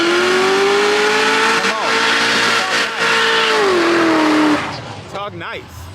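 A 1987 Monte Carlo SS roars at high, sustained revs while its tires are blown, the pitch wavering and dropping before the engine backs off; someone talks over the tail end.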